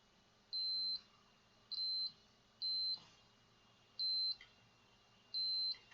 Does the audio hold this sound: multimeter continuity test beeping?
yes